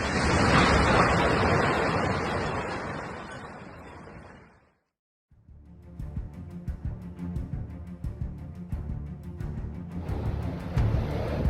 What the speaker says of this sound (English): Towering waves at Dunlawgare rose like water fortresses, crashing their full force into the harbor during the furious storm Isha.